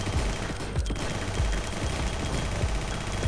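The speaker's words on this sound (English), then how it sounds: "Are we sure this is an assault rifle still?" An assault rifle firing at a machine-gun rate in the video game Nimrods, a dense, loud, continuous burst of rapid shots with no talk.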